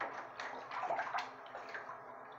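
A pet goose splashes while bathing in a bathtub indoors, giving soft, continuous water sloshing and light splashes that swell in a few short bursts, fairly quiet and close.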